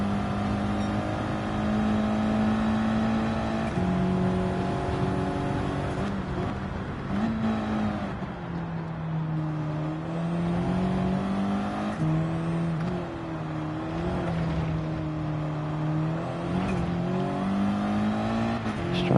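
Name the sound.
road car engine racing, from a racing video game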